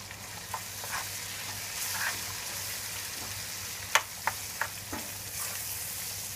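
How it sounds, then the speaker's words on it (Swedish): Chicken stew with tomatoes and saffron being stirred in a pot, with a steady background sizzle of frying and a few sharp scrapes and clinks of the spoon against the pot near the end. "jag ska röra min gryta"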